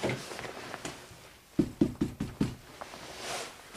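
Knuckles rapping on an apartment door in a block of flats, several sharp knocks in a quick irregular burst, fairly close, over a quiet background with faint noise.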